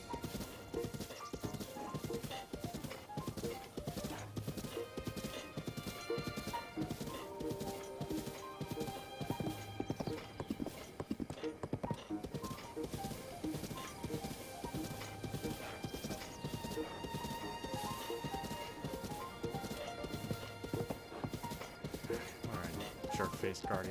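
A horse gallops across open country in The Legend of Zelda: Breath of the Wild, with rapid rhythmic clip-clop hoofbeats, a neigh and game music layered over steady riding, while a player talks over it.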